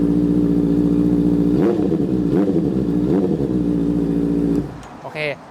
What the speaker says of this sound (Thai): เราฟังเสียงท่อของไดโวกันดีกว่าครับ ตัวนี้เป็นตั้งแต่ปลายมาเป็นสลิปออนนะครับ ของไดโวหมดเลย เสียงเอาเรื่อง